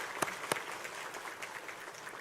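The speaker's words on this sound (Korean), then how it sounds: "격려의 박수하도록 하겠습니다" A church congregation at a Sunday service claps in encouragement, a short burst of steady crowd applause with two sharper, louder claps standing out near the start.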